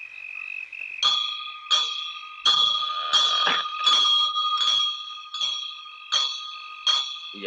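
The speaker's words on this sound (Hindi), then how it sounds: "तुम दोनों घंटी बजाते रहना।" A small bell rung steadily in the morning, with bright ringing strikes at roughly regular intervals, each note sustaining and overlapping the next, loud and close with no talking.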